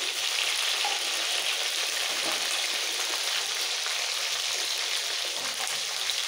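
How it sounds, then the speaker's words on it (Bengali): Potato and pointed gourd chunks fry in hot oil with salt and turmeric, giving a steady, close, even sizzle and crackle with no voices throughout. "আলু পটল তেলের মধ্যে মিক্স করে দিয়ে দেবো নুন আর হলুদ"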